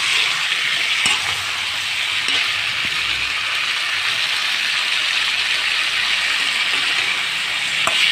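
Sliced eggplant fries with tomatoes in a pan for a whole-eggplant coconut milk kuzhambu, giving a loud, steady, close sizzle that holds evenly throughout with no voices.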